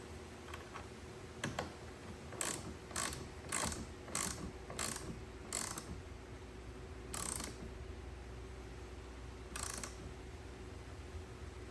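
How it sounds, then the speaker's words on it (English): A ratchet tightens the battery terminal nut on a Jeep Wrangler in short bursts of rapid clicking, about a dozen separate strokes spaced unevenly, close and clear over a quiet background. "I'm going to go ahead and tighten down the nut again"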